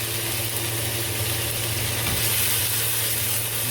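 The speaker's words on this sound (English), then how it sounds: "I'm going to saute them up." Drained canned diced green chilies saute in a pan with a steady, even hiss of frying. The sound holds at a constant level throughout, with a low hum underneath and no talking.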